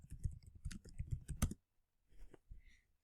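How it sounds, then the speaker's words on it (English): Rapid keystrokes on a computer keyboard while a Kahoot title is typed, a quick clicking burst for about a second and a half, then a pause and a few softer taps. "I can type in more information"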